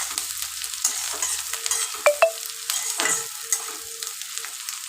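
Onions frying in oil for birista, a steady hissing sizzle with a few spatula knocks and scrapes against the pan, close and continuous with no voices.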